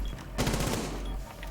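A short rapid burst of automatic gunfire rings out in a Rainbow Six Siege esports match, a dense rattle of several quick shots near the middle of a brief moment.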